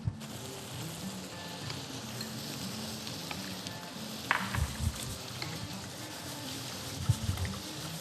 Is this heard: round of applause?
no